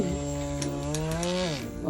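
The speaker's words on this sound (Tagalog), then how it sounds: "yung aking pangmalakasang electric fan" A powerful electric fan runs with a steady, close motor hum and whine that holds level, then dips slightly in pitch near the end.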